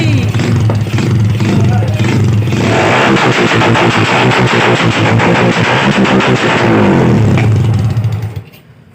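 A 2000 cc motorcycle fitted with an aftermarket Daing exhaust pipe revs hard and loud at close range, a dense, raspy roar with rapid popping bursts that runs steadily before cutting off near the end.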